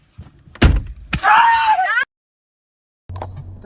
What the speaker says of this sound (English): Why did you slam the door that hard?